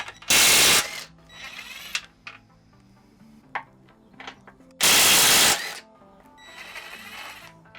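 Ratchet with an 18mm socket removing subframe bolts on a Fiesta ST, two loud bursts of fast clicking from the ratchet with quieter metallic clinks and taps between them.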